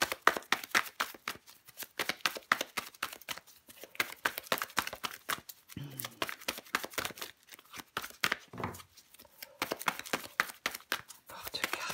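Tarot cards are shuffled and drawn in rapid, papery riffles and flicks, a dense run of crisp close snaps with a few short pauses and no talking over them.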